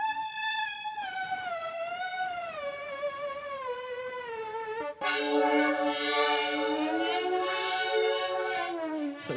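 On a ROLI Seaboard RISE, a synth tone slides in long continuous pitch bends, gliding down and then swooping up and down again across a wide range, loud, close and uninterrupted.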